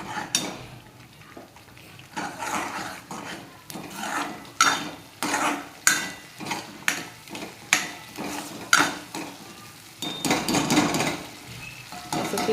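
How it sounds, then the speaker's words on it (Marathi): Stuffed brinjal masala with peanut paste sautéed in a pan, a spatula striking and scraping the pan in a steady rhythm of knocks over a soft sizzle. "आता याला चांगलं परतून घेऊ आपण"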